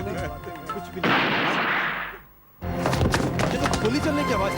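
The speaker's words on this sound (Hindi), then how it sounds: "ये तो गोली चलने की आवाज थी।" A single loud gunshot cracks indoors in a Hindi crime drama and decays into a lingering boom, with dialogue and room noise before and after.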